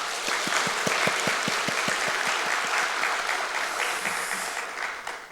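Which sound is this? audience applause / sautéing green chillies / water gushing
audience applause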